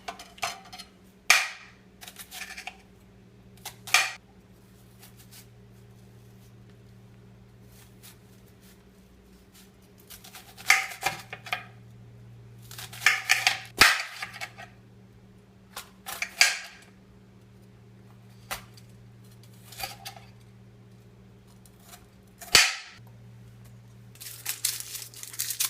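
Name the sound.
chopping two garlic cloves with a knife for gumbo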